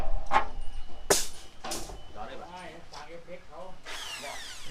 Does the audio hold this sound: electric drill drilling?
yes